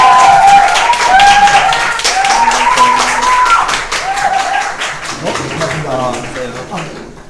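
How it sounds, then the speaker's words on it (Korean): Live audience applause for a police detective from the Korean National Police Agency's investigation reform unit being welcomed onstage, a dense patter of clapping mixed with whoops and a speaking voice over it, thinning out toward the end. "큰 박수로!"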